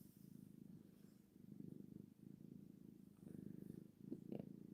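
A pet cat purrs steadily up close, a continuous low rumbling with gentle rhythmic swells, joined near the end by a few small soft sounds.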